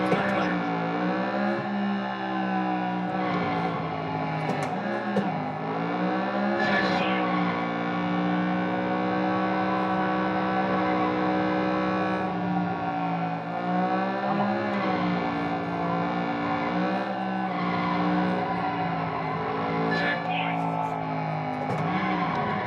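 Race car engine from an arcade racing game, a steady droning whine that rises and dips with gear shifts, including a mistimed downshift, running continuously and loud alongside a voice.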